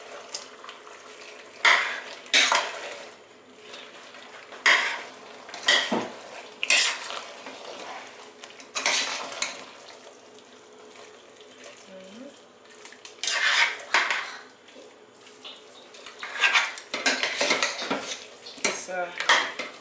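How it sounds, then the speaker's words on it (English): A spoon stirs spinach for efo riro in a metal pot, making repeated scraping clinks and knocks at an uneven rhythm, close and fairly loud. "you stir it. Try to stir the spinach out."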